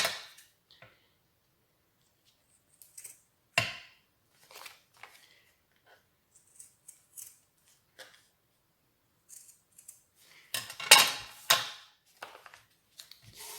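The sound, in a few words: cutting paper for pocket letters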